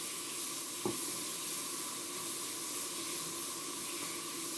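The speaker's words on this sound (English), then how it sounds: "So you want to fry off your chicken" Steady, dense sizzling of chicken frying in a hot pan for curry, continuous hiss throughout with one brief tap near the start.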